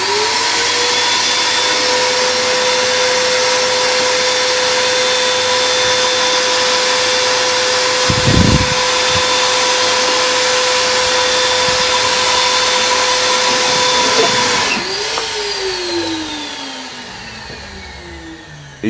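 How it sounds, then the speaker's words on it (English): A wet/dry shop vacuum sucks debris out of an aquarium sump, running as a loud, steady, close-up whining roar for the whole stretch. Its tone shifts and eases near the end, with a brief rattle of material passing through the hose midway. "I've got the wet dry vac ready to go."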